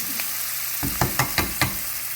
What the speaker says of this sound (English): Get garlic in there. Saute this for about 3 or 4 minutes.